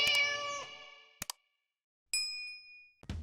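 A cat gives a few clear meows, separated by silences and mixed with bright ding and chime tones at the close of a Pete the Cat story read aloud.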